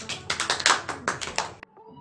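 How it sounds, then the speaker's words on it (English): Hands clapping during a Montessori colour tablets classroom activity, a quick run of about eight claps in a loose rhythm that stops abruptly, followed by a brief faint voice. "Clapping."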